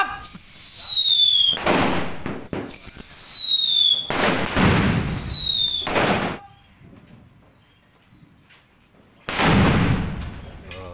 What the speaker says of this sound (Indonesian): Setiap hari lebaran pertama nyumet mercon